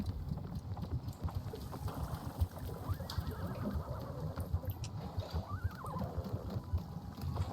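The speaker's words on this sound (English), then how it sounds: "Do I hear a horse?" A horse whinnies in the video game Wanderstop, a rising, wavering call over a low rumbling background with soft hoof clops, fairly close and moderately loud.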